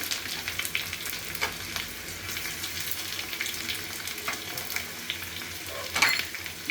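Chopped onion frying in coconut oil in a pan, a steady close sizzle with occasional soft stirring clicks and one brief louder scrape near the end.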